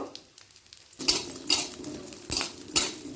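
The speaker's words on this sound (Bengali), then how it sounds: "পাঁচ ফোড়নটা দিয়ে আর একবার ডিমটাকে পাঁচ ফোড়নের সাথে ভেজে নেব" Fish roe frying with panch phoron and a dried red chilli in a pan: quiet at first, then loud sizzling bursts with metal spatula clatter against the pan, recurring every second or so.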